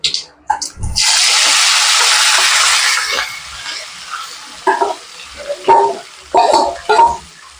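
Marinated boal fish poured into hot oil tempered with five-spice seeds, bursting into a loud close hiss that slowly fades to a gentle sizzle, followed by several clanking stirs of the pan.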